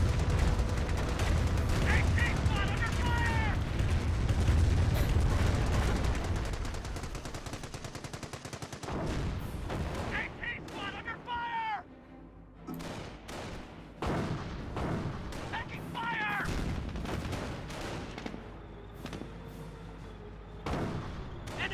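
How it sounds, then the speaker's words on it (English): A Calliope rocket barrage roars across a Company of Heroes battlefield, with dense rapid booms and crackling blasts layered over continuous gunfire and rumble while a commentator talks throughout. "Here comes a Calliope rocket barrage."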